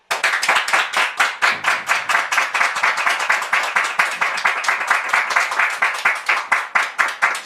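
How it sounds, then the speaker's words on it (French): An audience claps steadily to welcome arriving guests, loud, even applause with a fast, regular rhythm that carries through without letup. "Merci de les recevoir avec vos applaudissements"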